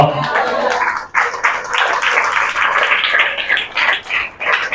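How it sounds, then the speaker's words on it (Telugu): A church audience claps together in a sustained, fairly loud burst of many hands with brief dips in intensity, voices mixed in at times. "ఇదిగో ఈ చప్పట్లు మనం ప్రభు కొడదాం"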